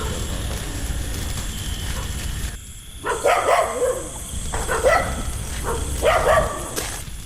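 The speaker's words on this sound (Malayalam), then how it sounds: "ഒരു പട്ടി കുറയ്ക്കുന്നു, എനിക്ക് പേടിയാവുന്നു അമ്മ." A dog barks a few times in short bursts against a steady background hiss, the barks fairly distant and separated by pauses.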